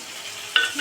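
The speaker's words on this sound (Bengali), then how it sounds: "বেগুন দিয়েও ভালো করে ভাজবো" Eggplant frying in oil gives a steady, close sizzle with a brief brighter spatter midway through, moderately loud and without voices.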